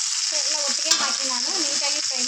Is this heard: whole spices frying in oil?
yes